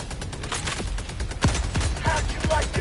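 Gunfire in the video game Helldivers 2: a dense, continuous stream of heavy automatic shots with sharp cracks standing out, loud and close for the whole stretch.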